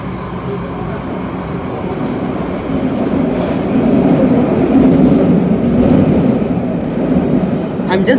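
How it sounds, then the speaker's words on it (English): Loud, continuous roar of a Hong Kong MTR train running, swelling midway and holding steady, with faint voices mixed into the din. "we try to get a C train."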